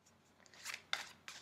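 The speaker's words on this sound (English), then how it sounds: "With this deck that I'm shuffling now" Quick papery riffles of tarot cards being shuffled, a few soft bursts with short pauses between them, close and quiet with no talking.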